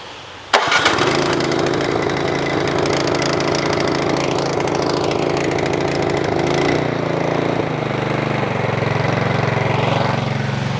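A snow blower's small engine sputters to life with a sudden start, then settles into a steady, loud warm-up idle that drones on close by, its pitch shifting slightly.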